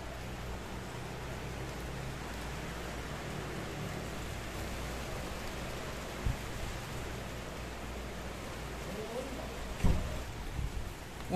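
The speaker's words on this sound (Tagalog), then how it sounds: "Lakas ng ulan. Lakas din ang hangin, oh." Heavy rain and strong wind roar outside a house without a front extension, making a dense, constant wash of noise throughout with a couple of faint knocks.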